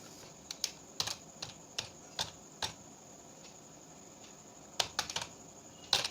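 Fingers tapping a computer keyboard in short bursts: scattered single clicks, a pause, then a quicker cluster of keystrokes, close and fairly quiet, with no voices.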